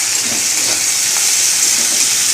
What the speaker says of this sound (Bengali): এবার পেঁয়াজটা দিয়ে দিই।